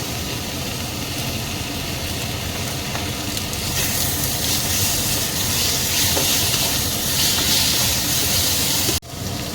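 Ginger, green chili and garlic paste hits hot oil in a pan for dim kosha and sizzles loudly and steadily throughout. Near the end there is a brief sharp clack.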